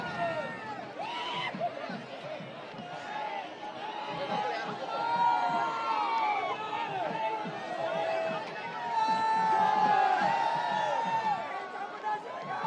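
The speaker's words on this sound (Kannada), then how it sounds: "ಎಲ್ಲ ಕಡೆ ಹರ್ಷೋದ್ಗಾರ ಮೊಳಗುತ್ತಿದೆ, ಜಯಕಾರ ಮೊಳಗುತ್ತಿದೆ." Crowd cheers and shouts rise along the Mysuru Dasara Jamboo Savari elephant procession route, a dense roar of many distant voices with whistles and calls swelling and fading, and a commentator talking over it.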